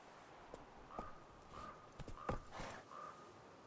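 Roach, Geralt's horse in The Witcher 3 video game, clip-clops at a moderate pace in a few distinct hoof strikes, fairly near, with a faint snort and no talking.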